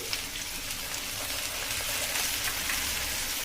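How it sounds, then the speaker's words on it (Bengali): Curry leaves with ginger garlic paste fry in hot oil with a dense, crackling sizzle, loud and close, holding steady before cutting off abruptly at the end. "আর তারই সাথে আমি যোগ করব ক্যারি পাতা। এরই সাথে আমি যোগ করছি আদা রসুনের পেস্ট।"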